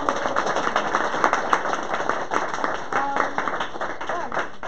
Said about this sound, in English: can we give another clap?